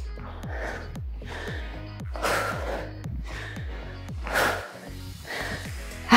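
Heavy, rhythmic panting from someone pushing through a high-intensity exercise interval, with breathy gasps recurring about once a second over a steady thumping music beat.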